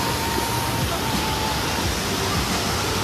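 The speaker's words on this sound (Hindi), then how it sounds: "ऐसे ऐसे अद्भुत झरने काफ़ी देखने को मिलते हैं यहाँ पे" A mountain waterfall on the Kedarnath trek roars as a broad, constant rushing wash of water, loud and close, filling the scene without any talking.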